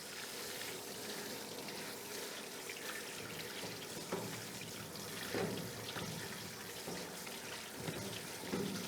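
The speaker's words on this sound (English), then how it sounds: "rinse your onions off. Rinse them off. Outside, not inside." Water runs and splashes outdoors as freshly harvested onions are rinsed, a constant soft wash with scattered drips and small splashes throughout.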